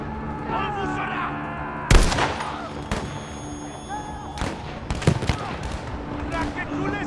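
Suppressive gunfire blasts in Battlefield V, where heavy shots boom and rattle in scattered bursts and one loud crack stands out. Soldiers' voices shout through the firing.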